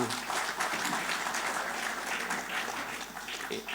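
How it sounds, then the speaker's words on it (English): A round of applause fills a hall at an annual day event, a continuous wash of clapping at moderate level that stays steady without rising or breaking. "So I thought a big round of applause to them"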